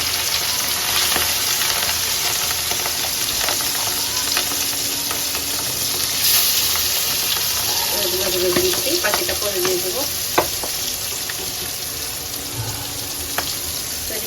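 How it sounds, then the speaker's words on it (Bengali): Raw fish frying in a pan gives a steady, loud sizzle of hot oil throughout, with a few clinks of utensils and brief running water in the background, and a voice speaks briefly. "এখানে আমি মাছটা বেজে নেব এটা কাঁচা মাছ"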